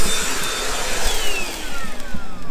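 Vacuum cleaner running inside a car during interior cleaning, a loud continuous close whine and rushing airflow with small shifts in pitch as the nozzle moves.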